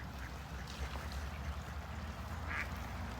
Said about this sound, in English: Hello, restful ducks.